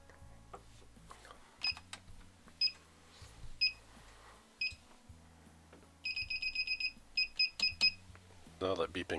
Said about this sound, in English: that beeping is the treadmill